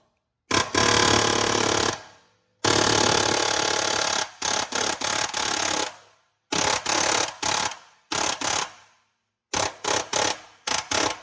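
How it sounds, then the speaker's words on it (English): A pneumatic air hammer rattles loudly in rapid bursts while removing a car's ball joint, several long runs then shorter stuttering blasts separated by pauses. "using air hammer to get the ball joint out"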